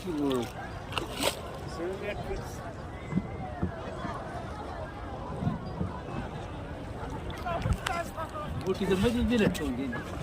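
Water sloshes and splashes around a boat moving along the Gandaki river near Pokhara, Nepal, with a continuous wash and occasional louder bursts under people talking.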